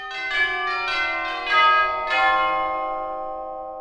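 Several tubular bells strike in succession, each bright, metallic tone ringing out and overlapping before slowly decaying.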